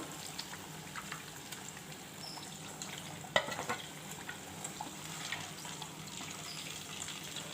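Sweet stuffed pastries deep fry in hot oil with a soft, even bubbling sizzle and a few light clinks, fairly faint and with no talking.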